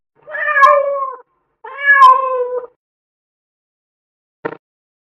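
A domestic cat meows twice in clear, drawn-out calls about a second apart, close and loud, followed after a pause by a brief faint click; no one speaks.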